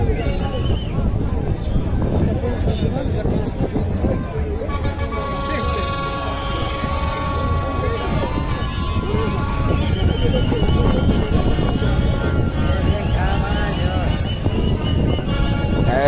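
Horses at the Pawkar Raymi festival in Peguche, with a whinny rising out of a dense outdoor din of crowd noise, hoof clatter and voices, all loud and continuous.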